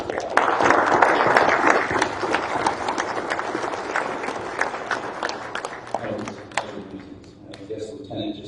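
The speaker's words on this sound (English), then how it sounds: "let's give both Lieutenant Joe and Captain Lovely a wonderful round of applause for both renditions of those anthems" A crowd at a battalion change of command ceremony gives a round of applause, dense clapping loud at first and thinning out toward the end, with some voices underneath.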